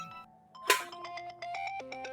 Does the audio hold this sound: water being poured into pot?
no